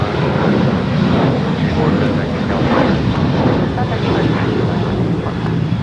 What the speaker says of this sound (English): it's American Airlines in the AirCal Heritage livery departing to Chicago